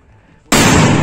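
A firecracker bomb set off with a match in a residential neighbourhood on New Year's night goes off in a single sudden, very loud blast that stays loud and dense to the end.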